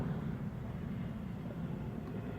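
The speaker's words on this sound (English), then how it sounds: "as the plane flies overhead, if you can hear it" An airplane overhead gives a faint, steady low drone that holds evenly throughout with no distinct events and no talk.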